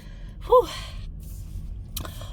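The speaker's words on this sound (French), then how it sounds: "Je suis essoufflée tellement que j'ai marché vite" A quick gasping breath stands out, followed a moment later by a softer exhale, like someone catching their breath.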